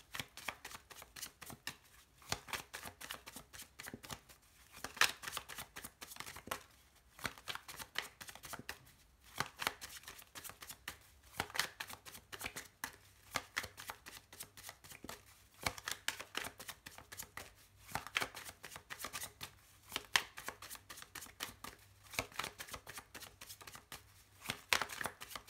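Tarot cards shuffled by hand in quick repeated riffling bursts, close and crisp, with brief pauses between rounds and continuing steadily throughout.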